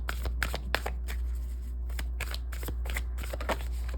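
Tarot cards are shuffled close up in a quick run of crisp riffling bursts and soft slaps over a steady low hum, with no talking.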